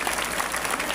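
A church congregation at a crusade claps in acclamation of God, steady dense applause from many people filling the room without a break.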